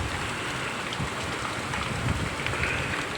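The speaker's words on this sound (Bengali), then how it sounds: "এইখানে দেখো আস্তে আস্তে হয়তো অল্প অল্প বোঝা যাচ্ছে যে বৃষ্টি পড়ছে" Rain falls outdoors in a dense, even hiss with gusts of wind buffeting the microphone, steady throughout with no talking.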